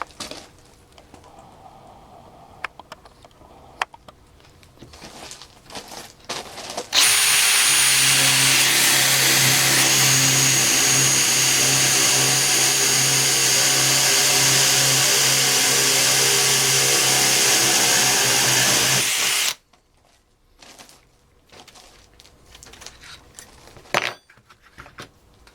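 A DeWalt DCD796 hammer drill driver bores through material with a loud, steady high-pitched motor whine and grinding for about twelve seconds, bracketed by quieter clicks and handling noises before and after.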